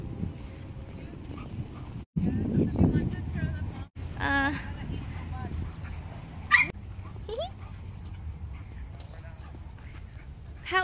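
Small Chihuahua dogs, including a young puppy, bark and yip in a park, with sharp high yelps breaking through ongoing conversation among several people nearby.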